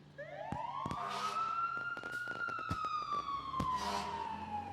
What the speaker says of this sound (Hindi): बाहर वो फायर ब्रिगेड, कुछ हुआ है क्या?